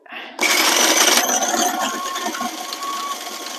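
An old food processor chops stuffing ingredients in a loud, steady whir that starts abruptly and runs on, easing slightly in pitch toward the end, with no voices over it.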